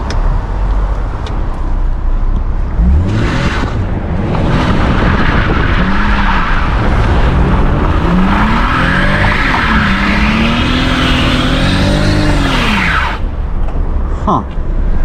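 A car with traction control switched off spins its wetted rear tire, giving a loud rising and falling squeal with engine revving close by, and people talk over parts of it.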